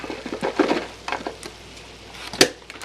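Grated kohlrabi with sharp cheddar and feta being stirred in a pan, giving a few soft scraping strokes and light sizzle in bursts, with a brief sharper clatter near the end.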